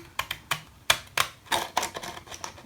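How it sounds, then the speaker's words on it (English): Fancy pattern scissors snipping down the side of paper for a junk journal, about a dozen crisp close clicks in a quick irregular rhythm, alone with no talk. "I like to use my fancy pattern scissors, and I just cut down the side here"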